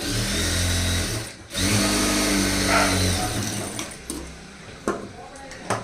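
A sewing machine runs in short bursts while top-stitching a blouse's lining cloth, a close mechanical whir that stops and restarts, followed by faint handling clicks.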